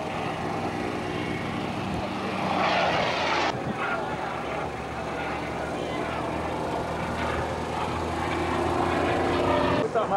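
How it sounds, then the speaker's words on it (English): An aeroplane flies at the Little Gransden Airshow in 2007, its engine drone a steady, moderately loud roar that swells and fades slightly as it passes, with a commentator talking over it. "Look, folks, you really should be watching the aeroplane."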